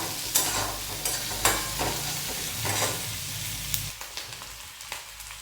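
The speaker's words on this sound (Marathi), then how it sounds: "हे सगळं आता एकत्र भाजून घेऊया आपण" Chopped green chillies and garlic stirred and frying together in a pan, a close, continuous sizzle with scraping stir strokes at irregular intervals, quieting slightly toward the end, no voices.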